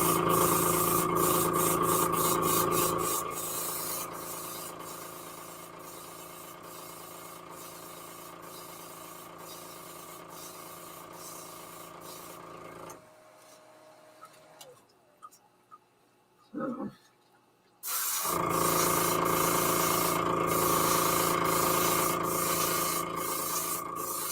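Color shifting paint hisses from a spray can onto a glide fishing lure in long, steady bursts, loud and close, broken by a quiet pause with a few small knocks before the spraying resumes.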